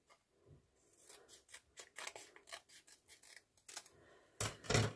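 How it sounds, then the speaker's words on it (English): Scissors snip through a paper sheet while trimming a folio pocket, a quick run of close, crisp cuts with a louder rustle of paper at the end. "I'm going to cut a little bit more off that one."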